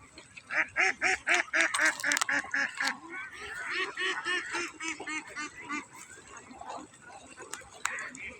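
A flock of domestic ducks quacks in loud, rapid overlapping bursts up close, the calls thinning into scattered quacks and wing-shuffling noise as the birds hurry past outdoors.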